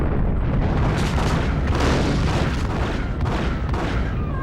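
Explosives blowing up in the Max Payne video game, a dense, loud barrage of overlapping booms and rumbling blasts that rolls on without a break for several seconds.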